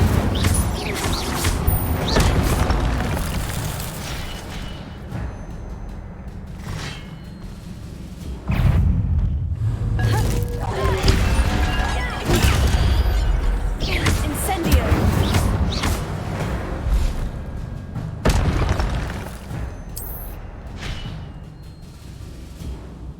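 Fiery spell blasts and booming impacts from Incendio casts in the Hogwarts Legacy video game, with repeated thuds, whooshes and explosions in bursts, loud and close, mixed with other combat effects.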